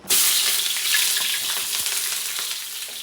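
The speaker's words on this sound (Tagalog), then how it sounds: "Nainit na mantika. Yan o, pagsabay na natin itong sibuyas bawang." Onion and garlic hit hot oil with a sudden loud sizzle that stays bright and steady, easing only slightly over a few seconds, with faint stirring clicks and no talking, while cooking spicy adobo fried rice.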